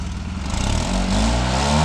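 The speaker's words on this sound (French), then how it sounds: "Il me semble que cette voiture qui vrondit n'avance pas d'un centimètre." A small pink car driven by a monk revs its engine hard on a mountain route between Kibber and Chicham without moving; the steady, loud mid-pitched engine roar swells and holds near the listener throughout.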